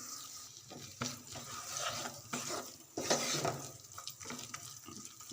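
About a quarter cup of flour cooks with softened chopped onions in a pan, heard as soft, uneven scraping and shuffling stirs over a low sizzle, fairly quiet and close, with nobody speaking.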